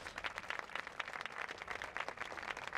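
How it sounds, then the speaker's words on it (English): Applause from an audience at a National Day of Peace ceremony honoring the Department of Corrections, a fairly steady patter of many hands clapping at moderate distance, no talk over it. "let's give yet again a round of applause for the Department of Corrections"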